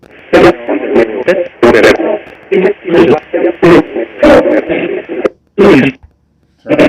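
The EchoVox app's synthetic voice plays with its echo effect on, giving choppy, radio-like bursts of garbled speech that break off in loud, uneven fragments with short gaps between them.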